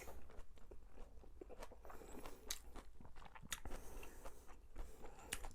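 Crunchy biting and chewing of a dumpling topped with pickled radish, close and quiet, with soft wet crunches and irregular chews and no talk.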